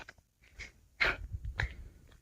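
A dog gives a few short, muffled barks and huffs, fairly quiet and spaced apart.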